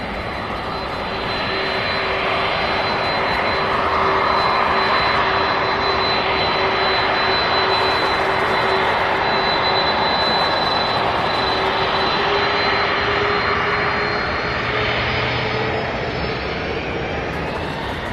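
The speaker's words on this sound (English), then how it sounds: "Boeing 767 takeoff in a row now." A Boeing 767 jet taking off at Louisville airport, its engines building to a loud, sustained roar that stays strong and broad throughout, with a steady high whine riding above the thundering rumble.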